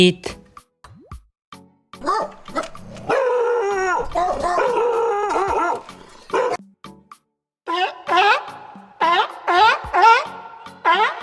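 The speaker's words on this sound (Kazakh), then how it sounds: "Ит." A dog howls in long, rising and falling drawn-out cries, followed by a quick series of shorter yelps and howls, fairly close and loud with no talk.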